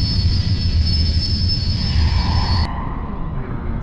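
An Imperial Dreadnought starship engine in the Star Wars Jedi Academy video game roars with a steady, heavy low rumble and a high whine that cuts off near the end, leaving the deep drone.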